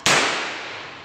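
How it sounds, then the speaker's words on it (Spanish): A single sharp crack from a less-lethal pistol firing an Oskurzan round at a piece of wood, loud and close, with a brief ringing tail fading over a second. "y le disparo al coso de madera."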